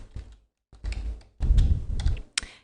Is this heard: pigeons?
no